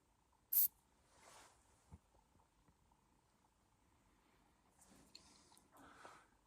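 A small flavored mist bottle gives a short, sharp spritz, quiet and close in an otherwise hushed setting, followed by soft faint rustles and handling sounds.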